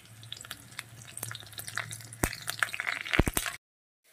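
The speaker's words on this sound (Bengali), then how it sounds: "এটা একটু ভাজা হতে থাকুক।" Finely chopped garlic and chillies fry in hot oil in a pan, a soft continuous sizzle dotted with sharp crackles and pops, close and alone, cutting off abruptly.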